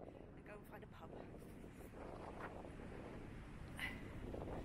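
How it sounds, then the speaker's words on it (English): Strong wind buffets the microphone outdoors on a walk toward Broadway, producing a low, continuous rumbling roar throughout. The recording is faint overall, and people talk underneath the gusts. "the wind was really bad"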